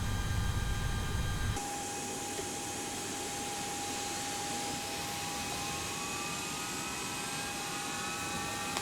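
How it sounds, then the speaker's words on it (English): A simulated Airbus A330 Rolls-Royce Trent jet engine spools up in X-Plane 10 from a low rumble into a steady, loud turbine whine with a high rising tone, continuous and close. "I'm going to let you listen to the engine start"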